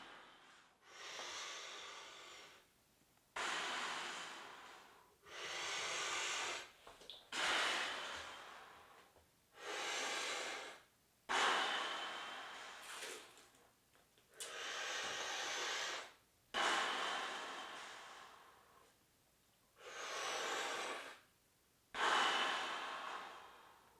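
Deep breaths drawn in and out through the mouth during push-ups in a breath-hold workout, about ten long, loud, hissing breaths in a steady rhythm with short silent gaps, close to the microphone.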